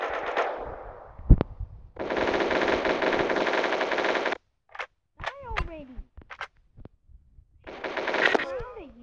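Rapid automatic gunfire in a first-person shooter video game comes in two long sustained bursts and a shorter third burst, loud and close. Between the bursts there are sharp single clicks and a person's voice.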